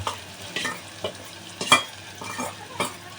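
Prawns go into a pan of browned onions and fry, with a soft sizzle under several sharp stirring scrapes and clatters spaced irregularly across a few seconds, close by and with no talking.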